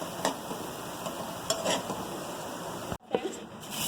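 Pizza filling cooks in a pan, a soft sizzle under a few brisk stirring scrapes and light clinks, close and brief.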